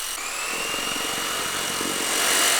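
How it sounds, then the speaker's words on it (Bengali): An F189 Pro drone flies in strong wind, its steady high rotor whine mixed with broad gusty wind rush that builds slightly toward the end. "প্রচণ্ড বাতাসের মধ্যেও কিন্তু ড্রোনটা খুব সুন্দর ফ্লাই করতেছে"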